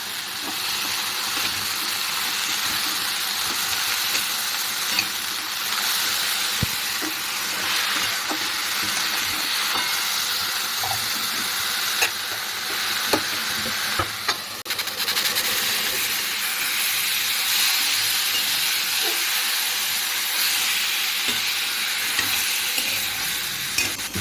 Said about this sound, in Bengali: রসুন, কালো জিরে আর কাঁচা লঙ্কা ফোড়ন দিয়ে শাকটা আমি ভেজে নিলাম।